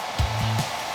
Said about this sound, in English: hairdryer. Time to do your work.